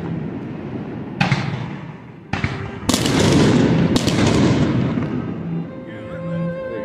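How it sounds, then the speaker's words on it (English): Neighbours' Fourth of July week fireworks going off nearby, a few loud sharp bangs and crackling bursts spread over several seconds with rumbling echoes between them. "Just our local people shooting off fireworks."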